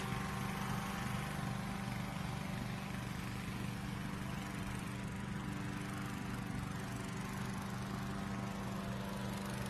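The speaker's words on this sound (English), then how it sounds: "Get away from the noise of the fans a little bit while that's going on" Steady, loud droning of large inflation fans filling a hot air balloon at a balloon festival, a constant low mechanical roar with a broad rushing hiss, no voices.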